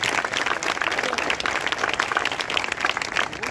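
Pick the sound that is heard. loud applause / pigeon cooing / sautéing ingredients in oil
loud applause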